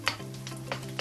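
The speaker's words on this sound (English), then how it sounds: "I've got some oil, just regular non-flavored oil, and some sliced garlic." Sliced garlic sizzles steadily in hot plain oil, with a soft crackle and a few brighter pops over a low, continuous hum.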